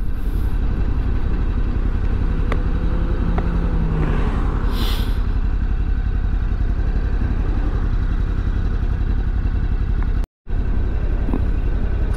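Riding a Ducati Scrambler Sport Pro 1100 motorcycle: a steady engine drone blends with loud, continuous wind and road rumble throughout, with one brief dropout near the end and no talking.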